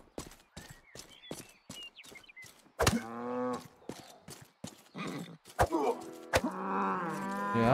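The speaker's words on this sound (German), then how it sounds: "Jetzt ist die Kuh hier." Cattle lowing in the Western game Rustler, several drawn-out harmonic moos rising over a run of sharp rhythmic clopping or knocking, fairly close and loud, with no talk.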